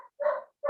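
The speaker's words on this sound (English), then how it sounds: "And there's a dog out there that likes that." A neighbor's dog outdoors gives two short, faint barks a moment apart, heard alone and at some distance.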